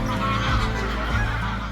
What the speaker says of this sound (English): Loads of grey-lag geese were flying in all over the place, expecting to share with the visitors.